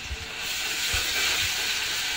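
Ginger paste hitting hot oil in a home cooking pan sizzles as a steady, fairly loud hiss with a few low thumps underneath; no one speaks.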